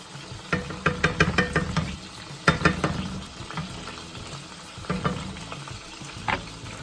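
Blackened chicken frying in a pan gives a close sizzle broken by clustered bursts of crackling and stirring clatter in uneven waves.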